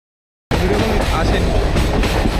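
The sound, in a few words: train running on rails, Kolkata–Goa Amaravathi Express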